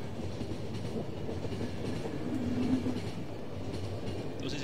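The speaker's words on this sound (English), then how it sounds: "Damn schedule train, where is it?" Steady rumble of a moving train from the video game The Final Station, wheels clicking softly over rails in a continuous, even roll without any talking.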